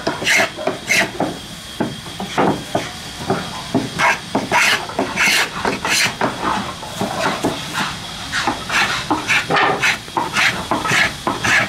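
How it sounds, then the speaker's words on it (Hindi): A hand plane shaves the wooden blade of a cricket bat in a workshop, producing a steady run of loud, rasping, hissy strokes in quick succession, each pass a short scrape, heard close with no clear talk. "अब यहाँ पे आ गए यहाँ पे इसको रंदा जी रंदा लगा रहे हैं"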